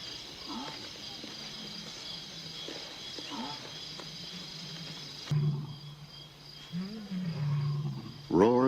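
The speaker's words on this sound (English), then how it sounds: "Roars in the night can mean danger for the pride." Male lions roar at night on the African plains, low rumbling calls carrying from a distance beneath a steady insect-like drone, with a narrator speaking over them.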